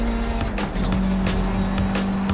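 A car races through mud in the video game Forza Horizon 5, a loud continuous engine drone with tire squeals and splashy scrabbling bursts, steady and close, with no talking.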